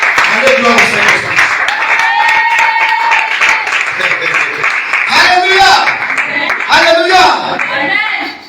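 Church congregation clapping and cheering in praise of Jesus, a dense steady wash of applause and voices lasting throughout, fairly loud and close, with some vocal calls rising above the crowd.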